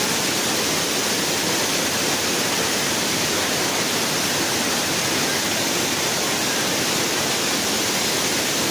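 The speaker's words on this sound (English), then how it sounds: "you see waterfall already you see waterfall already" Rushing waterfall at a state park, a steady full-band roar of falling water that fills the whole stretch without break, loud and close with no voices.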